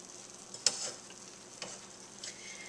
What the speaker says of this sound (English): we're just going to cook this until the bread is nice and toasty